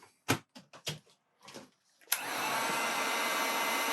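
Several sharp clicks and clatters from handling a tool come first; then a heat gun for warming a vinyl wrap on an RC jet boat switches on with a snap and blows a steady, loud, even whoosh.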